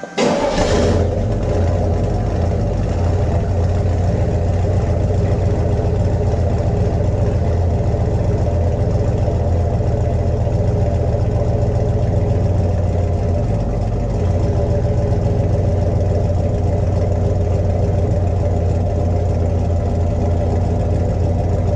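A 1956 Chevy Nomad's engine cranks and catches on a cold start, then settles into a steady, loud, rumbling idle that runs on close by, with no talk over it.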